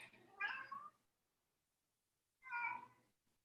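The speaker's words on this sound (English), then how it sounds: "This cat is so vocal. She does not stop talking ever." A talkative female house cat meows close by, two drawn-out calls separated by a second or so of silence.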